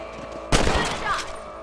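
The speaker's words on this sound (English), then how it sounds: "Better at shooting rabbits than outlaws, I see." A single loud gunshot rings out while hunting rabbits in Red Dead Redemption, a sharp crack with a lingering tail over quiet ambient game sound, followed by a brief softer burst.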